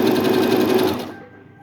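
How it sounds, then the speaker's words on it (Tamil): A Brother electric sewing machine runs with the pedal pressed, a loud rapid mechanical chatter of the needle that holds steady for about a second, then slows and winds down to quiet. "விசாகன் பெடல் பண்ணிக்கிட்டு இருக்கான்"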